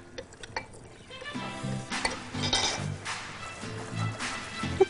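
Sugar melts and browns in a pan while being stirred, soft sizzling with scraping and light clinks of a utensil against the pan, close and fairly quiet, rising a little toward the end.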